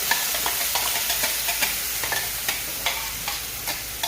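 Ground spice paste fries in hot ghee, a steady close sizzle with light rhythmic stirring ticks every half second or so, and no talking.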